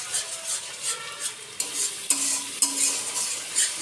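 Vegetables getting stirred in a frying pan with a yogurt and Kashmiri chili batter, a steady close sizzle with rhythmic spatula scrapes and a few sharp clinks against the pan.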